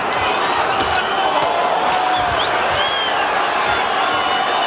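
A big crowd fills a boxing arena during a Roy Jones Jr. exhibition bout, a steady dense roar of murmur and cheering with scattered whoops, heard close and continuous throughout.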